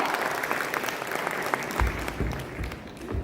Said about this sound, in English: A big round of applause for Jimmy, sir.